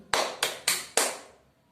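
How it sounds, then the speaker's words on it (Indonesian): Four short, sharp claps at a steady rhythm in a quiet classroom, close and fairly soft, each decaying quickly with no voices. "kita berikan tepuk tangan untuk Desi"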